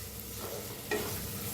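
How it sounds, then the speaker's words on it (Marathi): Green chillies with turmeric and salt sizzle and get stirred in a pan, a soft, steady frying hiss with a brief scrape of the spatula partway through. "तर छान भाजूया"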